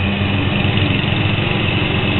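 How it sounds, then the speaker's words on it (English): A lawn mower engine runs steadily throughout, a continuous buzzing drone with a strong low harmonic hum at moderate loudness and no other sounds. "So my dad's mowing the lawn."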